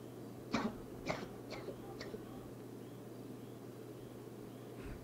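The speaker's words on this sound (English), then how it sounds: "He's coughing over there." A character in the video game GTA V coughs a few times in a short rough cluster, fairly close, over a low steady hum, then only the hum remains.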